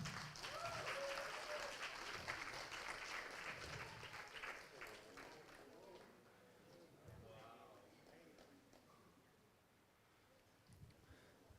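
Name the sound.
audience applause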